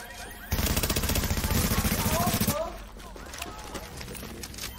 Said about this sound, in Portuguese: Olha os caras do beco lá atirando.